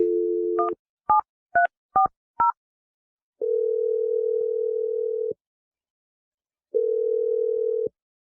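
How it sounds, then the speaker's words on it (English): A landline telephone gives a short burst of dial tone, then five quick touch-tone keypresses, followed by two long steady tones separated by silence, clear and close with no talking. "I'm going to dial Teresa's number if you're ready"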